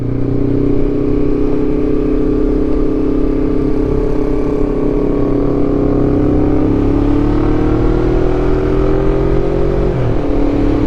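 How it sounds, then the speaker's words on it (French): A motorcycle engine drones loudly and continuously at high altitude, its pitch rising and falling as it struggles to gain revs, close and steady throughout. "On sent que la moto elle a du mal avec l'altitude là. Elle galère à prendre ses tours."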